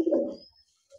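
A Rajshahi Giribaz pigeon gives a single short, low coo up close, then goes quiet, with a faint chirp at the end.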